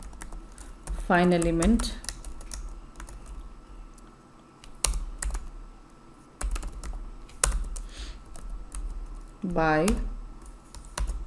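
Computer keys clatter in quick bursts as Selenium XPath code is typed, near and crisp, with someone talking in between the typing.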